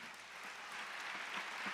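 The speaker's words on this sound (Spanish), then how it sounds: "Dele un aplauso al Señor." A church congregation gives faint, distant applause, a soft continuous patter of clapping heard throughout at low volume.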